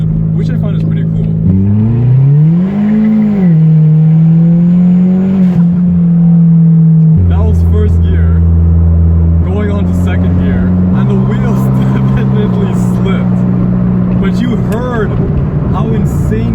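Tuned Hyundai Genesis Coupe with stage 2 tuning, its engine loud and close as it revs up, settles into a steady drone, then climbs and holds at higher pitches in several stages, with people talking underneath.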